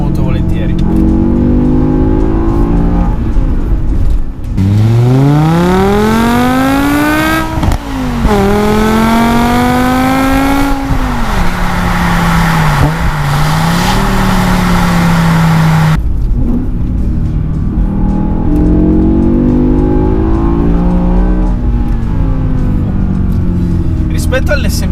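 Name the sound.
BMW M5 E60 engine revving at high rpm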